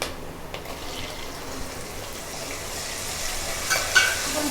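Tomatoes and curry leaves fry in a pan, giving a soft, steady sizzle with light stirring noises and a few brief clinks, no one speaking.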